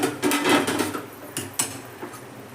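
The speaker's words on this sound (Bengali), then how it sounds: "একটু ঢাকা দিয়ে দিই, তাহলে তাড়াতাড়ি ফুটে যাবে।" A metal lid knocks onto a pot of boiling prawn curry, a few sharp clanks and rattles close by, then brief clatter settling quietly.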